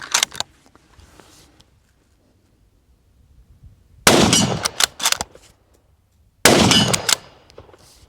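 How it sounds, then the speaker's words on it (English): A Sako 90 Finnlight .308 rifle fired off the shoulder outdoors, with a few faint clicks and handling sounds followed by two sharp, loud shots, each with a short trailing echo. "Let's shoot it off the shoulder now."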